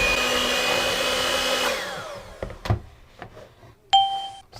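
An electric mixer whirring through vanilla cake batter, a loud steady motor drone that winds down and stops after about two seconds, followed by clunks and knocks of the bowl and a short electronic beep.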